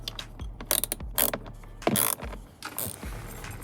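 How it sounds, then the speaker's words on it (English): A T10 socket undoes two bolts on a BMW E92 M3 instrument cluster, producing close, loud ratcheting clicks in short bursts with brief pauses between them. "we'll need a T10 socket and undo 2 bolts."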